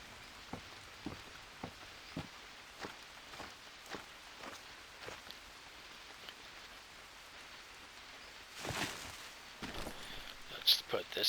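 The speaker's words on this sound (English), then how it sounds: "Let the rain fill that up." Steady rain falls in the jungle survival game Green Hell, a soft continuous hiss with scattered droplet patters. A person talks over it at intervals, and a louder rustling burst comes near the end.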